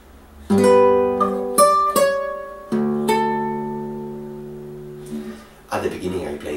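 Measure five of a piece on fingerstyle guitar: plucked chords and single notes ringing out and fading, played close, with some noise or a voice near the end.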